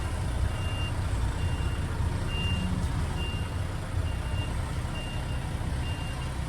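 An articulated truck manoeuvring its trailer in a loading bay gives off evenly spaced reversing beeps, about seven single tones, moderately distant over a steady low diesel rumble, with no talking.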